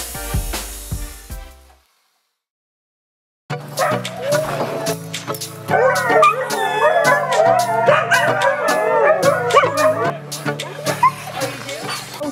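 A team of sled dogs barks, yips and howls excitedly at a cart-training site. The noisy pack follows a short pause and builds into overlapping cries, with some talk mixed in.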